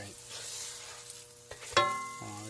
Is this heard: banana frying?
yes